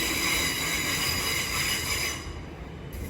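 A Class 700 Thameslink train pulls into a London terminus, its wheels squealing on the rails over a rolling rumble, loud and close, easing slightly toward the end.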